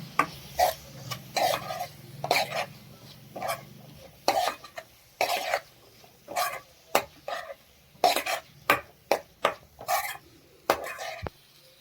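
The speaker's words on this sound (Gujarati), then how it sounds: "બધી જ વસ્તુનો મસાલો સરસ શેકી લઈએ." A spoon scrapes and stirs ground spices roasting in a pan for royal-style khichdi, with chili, coriander-cumin powder, garam masala and salt, giving repeated clinking, scraping strokes in an irregular rhythm, close and fairly loud.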